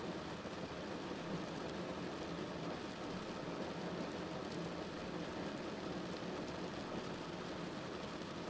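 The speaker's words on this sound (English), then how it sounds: "The sound of the rain can be heard now on the roof of the train, as well as the windows" Steady rain drumming on the roof and windows of a train, a dense, even hiss with a low rumble beneath, continuous and moderately faint with no voices.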